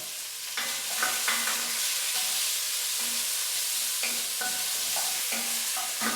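Beef pieces browning in a hot pan for a beef bourguignon, giving a steady close sizzle and fry hiss throughout, broken by repeated scrapes and clatters of stirring.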